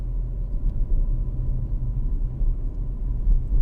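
A car rolls through a roundabout, heard from inside as a steady low road rumble and engine drone that stays even throughout, with no other sounds standing out.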